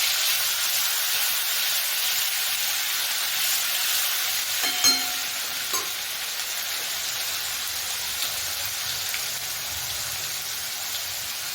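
A green masala of garlic, cumin and chili sizzles steadily in hot oil, a continuous close hiss with a few brief clinks partway through.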